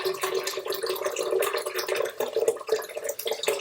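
Water is poured for raw vegan Brazil nut milk, a steady splashing, gurgling trickle into a container that stays close and moderately loud for several seconds without speech.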